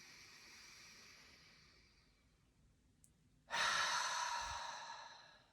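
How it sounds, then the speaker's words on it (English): A single deep breath drawn in during a guided meditation: after a near-silent pause, a close, breathy rush of air swells suddenly and then slowly fades. "And again, deep breath in."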